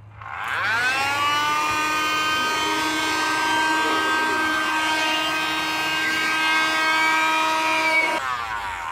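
A TECCPO window vacuum cleaner runs on dirty glass with a loud, steady motor whine and high tonal hum. It starts up, holds for about seven seconds and then cuts off, with no talk.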